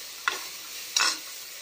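Two whole green chillies, stems left on, hit a hot pan for chicken soup, giving two short, quiet bursts of sizzle and stirring about a second apart against near silence.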